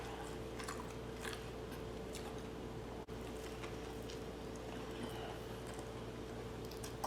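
Close, repeated crunchy bites and chewing of a fried egg, cucumber and tomato sandwich with mayo, soft and steady over a faint electrical hum.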